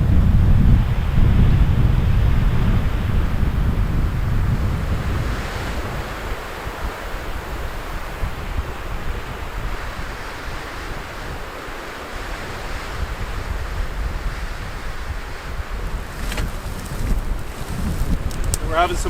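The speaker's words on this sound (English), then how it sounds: "Can barely move forward in this wind." Strong wind roars across a lake around a canoe, with waves slapping and a steady blustery rush that swells and eases throughout, close and loud.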